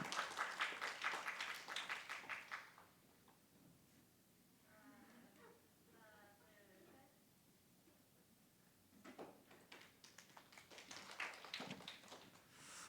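Soft, sparse clapping from a small congregation at a high school youth worship service, during an award presentation. It rises for a few seconds, gives way to a quiet stretch with faint voices, then returns, still subdued.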